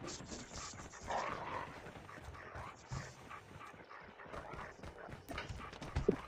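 A K9 unit attack dog in the Call of Duty Mobile video game, heard as scattered dog barks and scuffling within a busy game mix with rumbling and clattering throughout.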